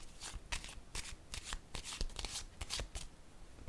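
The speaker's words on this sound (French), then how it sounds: "Je vais piger une autre carte." Cards from a tarot deck are shuffled and drawn by hand, a quiet run of quick papery riffles and flicks in close, uneven bursts.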